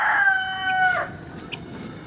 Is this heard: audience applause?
no